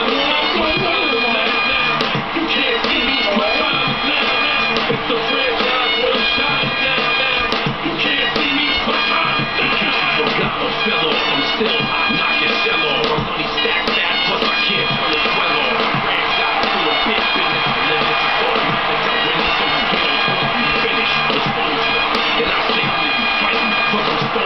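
A dense, steady roar of wrestling fans cheering for John Cena at a wrestling event fills the whole stretch, loud and continuous with scattered shouts rising from the crowd.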